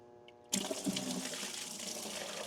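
Old fluid draining from a John Deere A tractor, a sudden gush of liquid that splashes loudly at first, then settles into a steady close pour.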